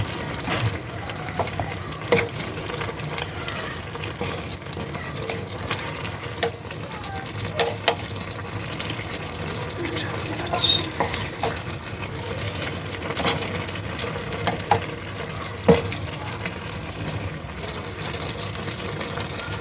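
Shrimp stirred as they fry in a pan, a steady close sizzle with repeated light scraping and clinking strokes spread across the whole stretch, and no talk over it.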